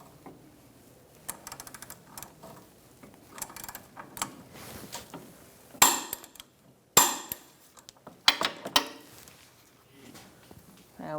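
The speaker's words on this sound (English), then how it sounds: "Let's torque this to 80 foot-pounds." A torque wrench tightening a sway bar link nut to 80 foot-pounds on a 2014-2019 Kia Soul, giving a few sharp metallic clicks and knocks, with the loudest snaps near the end over quieter mechanical handling.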